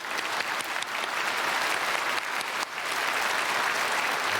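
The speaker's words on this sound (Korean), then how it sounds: "오늘 성가대 모두 박수 한번 하겠습니다" A church congregation at a Sunday worship service applauds the choir, a full, dense roar of clapping that continues steadily throughout.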